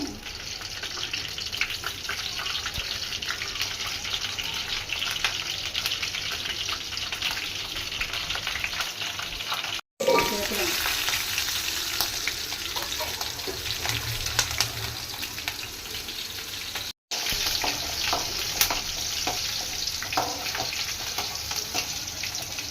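Ingredients for gongura chutney frying in hot oil, a continuous close sizzle with scattered pops and crackles, broken by two brief silences, and no talking.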